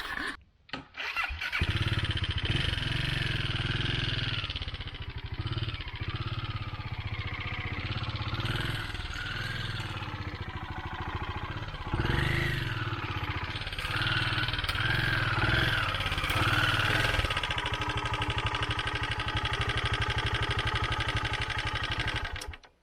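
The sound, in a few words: motorcycle engine starting and idling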